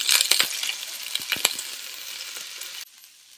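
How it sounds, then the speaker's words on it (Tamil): Green chillies and drumstick leaves sauté in a hot pan with a bright, steady sizzle, broken by a few sharp clinks of a utensil against the pan, before the sizzle suddenly drops to a faint hiss. "இதில் நம்ம பச்சை மிளகாயையும் நம்ம கீரையும் போட்டு ஒரு 2 நிமிஷம் வதக்கலாம்."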